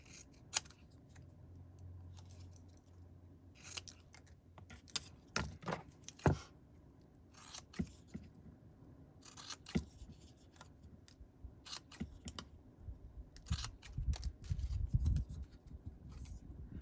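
Scissors snip through small scraps of white paper in a quiet room, a string of soft, close cuts and rustles arriving in irregular bursts with no talk.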